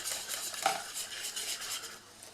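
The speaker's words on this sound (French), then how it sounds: "je remue bien, parce que c'est très important avec la levure de bien remuer" A spoon stirs olive and ham cake batter with yeast in a bowl, scraping and clinking softly in a steady, close rhythm with no talking.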